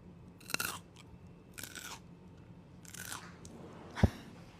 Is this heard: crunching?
yes